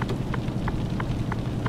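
Rain in the Euro Truck Simulator 2 video game makes a steady, soft hiss with a low rumble of the truck underneath, and faint periodic ticks recur through the brief stretch.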